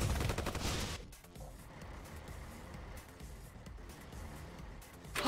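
In the strategy game Forged Battalion, a turret comes under attack: a dense burst of rapid gunfire rattles for about a second, then gives way to a quieter, rumbling battle background.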